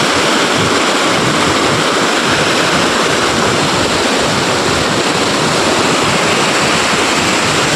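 Khad Khambhaliya waterfall near Jamnagar roars with a steady, dense rush of falling water, loud and close, broadband and unbroken throughout with no voices.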